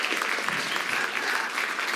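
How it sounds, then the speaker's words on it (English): Steady, dense applause from a concert audience fills the room at moderate loudness, with no talk over it. "Yeah, a round of applause."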